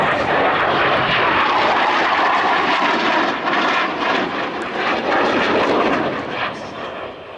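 A military jet races past the crowd at high speed at the 2010 Kecskemét airshow in Hungary. A loud, continuous roar swells and holds near the listener, then eases slightly as it passes.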